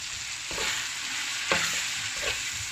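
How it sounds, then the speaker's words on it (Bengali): Ground turmeric, chilli, cumin and coriander powders fry in hot oil, a constant close sizzle with three distinct scrapes and knocks of a spatula stirring the pan, no voices. "দিয়ে মশলাটাকে ভালো করে কষিয়ে নেব।"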